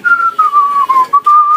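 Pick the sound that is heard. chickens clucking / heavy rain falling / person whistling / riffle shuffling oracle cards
person whistling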